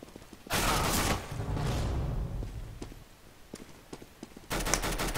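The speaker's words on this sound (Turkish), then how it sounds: "İçeride çatışma dönüyor" Gunfire in a CS:GO match, with rapid automatic bursts near the start and end and scattered single shots between them, loud and close over a quieter background.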